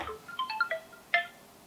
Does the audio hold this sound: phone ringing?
yes